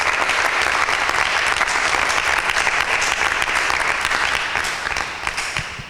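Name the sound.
audience applause after a correct answer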